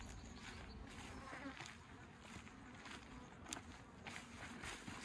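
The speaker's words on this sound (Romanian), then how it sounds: "Albinele mă cam bâzeie." Bees hum steadily around beehives near a linden forest on a hot day, a close, continuous buzz with individual insects swelling past now and then, with no talk over it.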